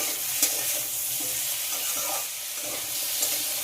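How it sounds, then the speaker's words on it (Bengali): Potatoes with chopped tomato, salt and turmeric frying in a pan for aloo chorchori, a soft continuous sizzle with occasional stirring clinks, close and with no voices. "এবার আগে থেকে কেটে রাখা টমেটো দিয়ে দেবো, আবারও ভালো করে ভেজে নেব সব কিছু"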